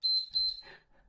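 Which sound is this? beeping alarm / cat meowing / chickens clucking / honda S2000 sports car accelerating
beeping alarm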